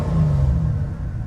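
An Aston Martin V8 Vantage with a bolted flip tail rumbles and revs on a road test. The deep, loud engine drone holds steady and close for just over a second, with no voices.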